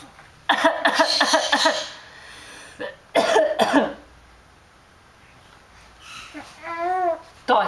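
A young child gives a run of short, harsh coughs in quick bursts, then another cluster a moment later, followed by a quiet stretch and a small whiny vocal sound, all close and fairly loud.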